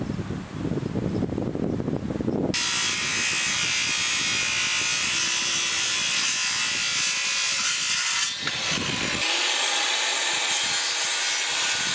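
A power saw runs loudly and continuously through wooden fence posts for most of the stretch, with a brief start and a short dip in pitch as the blade works through the wood.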